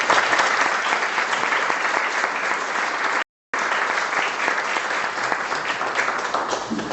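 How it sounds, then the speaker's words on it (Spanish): Warm, steady applause from an audience welcoming a speaker at a leadership training session, dense and continuous, broken by one short dropout midway. "Recibámonos con un caluroso aplauso"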